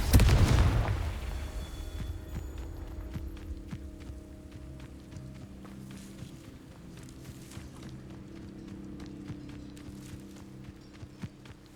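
A Confringo blast spell goes off in Hogwarts Legacy, a loud booming burst at the start that decays into a low rumbling hum with scattered light crackles and footstep-like taps.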